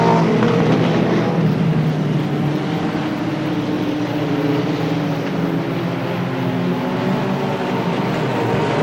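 Race cars roaring around the oval at Star Speedway during a 15-lap Roadrunner main event, a continuous loud engine drone with layered overlapping motors, steady throughout and without speech.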